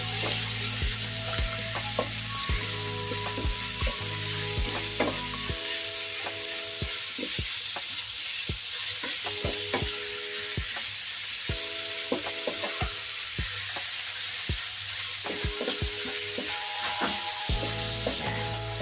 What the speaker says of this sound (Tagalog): Kailangan maigisa lang natin maigi yung ating giniling guys.